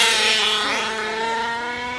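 Small gas engine of an RC Baja car at a drag race event, buzzing loudly and close with a high, harmonic whine that holds steady at high revs and eases slightly toward the end.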